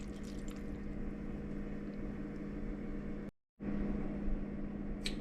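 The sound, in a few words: water poured into a pot of chopped pears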